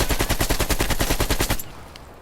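An AK47 fires full auto in Call of Duty: Black Ops Cold War, a fast, even burst of about fifteen loud sharp shots lasting a second and a half before stopping, with no talk over it.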